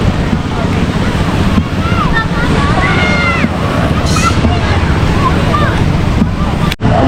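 Waves wash steadily onto a beach under gusting wind buffeting the microphone, with faint voices and bird-like chirps in the background as someone walks along the shore.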